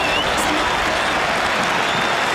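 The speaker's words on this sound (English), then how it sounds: "You know it's a good mark when the Port Adelaide supporters applause." Port Adelaide supporters at an Australian football match against Melbourne applaud a spectacular mark, a broad, sustained wash of stadium clapping and crowd noise heard from a distance.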